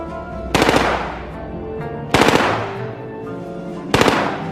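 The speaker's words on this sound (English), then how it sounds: "The Type 96 light machine gun was a decided advancement." A Japanese Type 96 light machine gun, gas-operated, fires three short bursts of rapid shots, each loud burst followed by a decaying echo and low background rumble.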